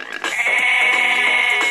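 A loud, sustained synthetic goat bleat from an iPad kids' app game, with a wavering, nasal tone, lasting under two seconds, heard alone.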